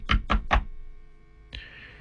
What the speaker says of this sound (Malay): saya mimpi ada orang datang ketuk pintu rumah